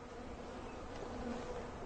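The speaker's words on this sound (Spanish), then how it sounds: "Esta sí que es una hermosa colmena de abejas" Honey bees buzzing at a beehive after winter, a steady dense hum of many insects with a few individual bees droning nearer, moderately faint and continuous.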